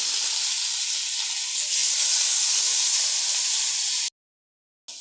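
Onion and ginger paste hisses loudly in a hot pan after water is added, a steady close steam-and-sizzle that stops abruptly near the end.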